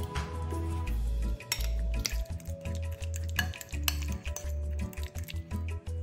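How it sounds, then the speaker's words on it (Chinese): Steamed potato and pumpkin with sugar are mashed into a paste, giving repeated dull thumps and pressing squelches with light utensil clinks against the bowl, close and moderately quiet. "趁热加入20克蔗糖，再捣成泥状。"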